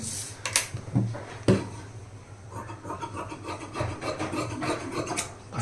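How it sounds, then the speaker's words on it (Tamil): Scissors cutting blouse fabric for a three-dot blouse give a steady close rasping, rubbing sound with several sharper snips, alone without talk. "பாருங்க கட் பண்ணி எடுத்துட்டேன்"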